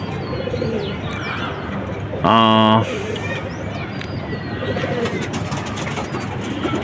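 Pigeons coo softly in a home loft while a person talks over them nearby, and a short loud electronic beep cuts in briefly partway through.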